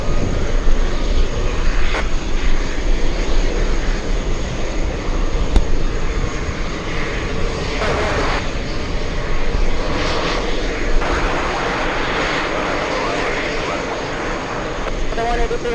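A Condor airliner jet passes at JFK airport, a loud, steady roar that holds for the whole stretch with slight swells, while people talk faintly in the background.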